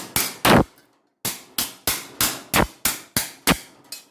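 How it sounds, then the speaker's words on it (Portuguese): A hammer beats a metal sheet held in a vise to shape it, striking about ten sharp, ringing blows in a quick, fairly even rhythm, loud and close, with one brief pause after the first three. "Eu fui trabalhando ele no martelo. Pega aqui na chapa, né, na morsa, e vai trabalhando todo batendo do jeito que eu quiser o movimento."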